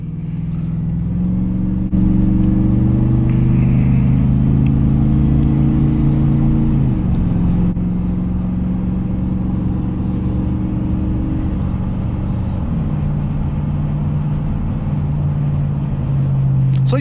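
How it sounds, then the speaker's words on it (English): A 2002 Chevrolet Silverado 2500HD truck accelerating on a freeway, heard from inside the cab as a loud, steady engine drone that climbs in pitch through the gears, with brief dips at each shift. "All right, we're on the freeway, let's go."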